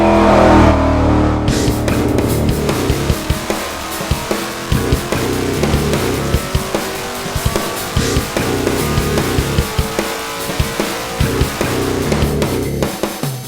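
A pump-gas big-block Chevrolet 572 with Pro Elite heads roars on a dyno, a loud sustained engine howl with steady rough pulsing that holds for many seconds.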